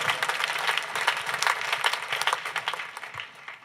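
A church convention crowd applauds its speakers, dense clapping from many hands that swells and fades over a few seconds, fairly close and loud, with a few scattered voices mixed in.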